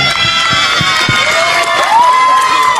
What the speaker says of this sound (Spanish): Mira cómo te aplaude el público.